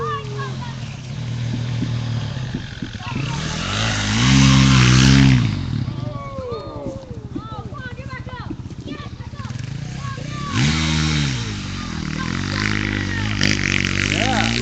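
Dirt bikes at the Sandblast 2013 rally's SS4 sand trap rev and strain through deep sand, engines rising in loud bursts with quieter stretches between, close by.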